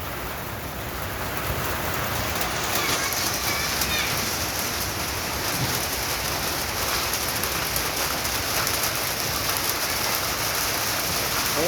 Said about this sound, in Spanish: Llueve, se vino la lluvia aquí en Tocoa.